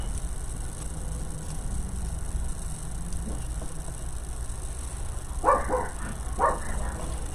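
A house dog barks twice in the distance at a delivery, two short muffled barks about a second apart over a steady low background hum.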